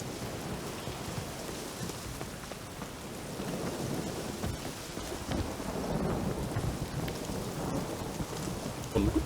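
Heavy rain with deep rolling thunder in The Witcher 3: Wild Hunt, a steady loud downpour with low rumbles swelling through it, no voices.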